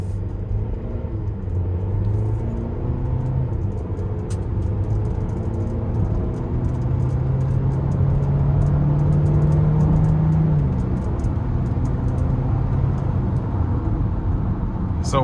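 A 2027 GMC Acadia Denali Ultimate accelerates in front-wheel drive, its engine a loud steady rumble from inside the cabin, the tone climbing gradually and then easing off.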